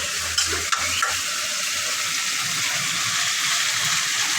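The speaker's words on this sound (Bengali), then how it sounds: "মশলার সাথে মাংসটা খুব ভালো করে নাড়াচাড়া দিয়ে বসিয়ে দিলাম" Meat being stirred with spices in a pot, a steady close sizzle with a couple of spoon knocks near the start.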